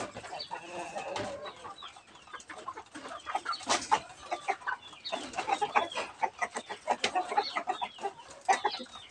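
A young native rooster clucks in a rapid series of short, close calls over a quiet farmyard background, with no one speaking.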